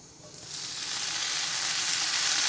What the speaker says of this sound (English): Now in the same pan, we'll add half a teaspoon of oil. Add all our mint leaves.